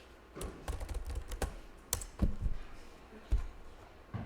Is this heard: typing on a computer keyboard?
yes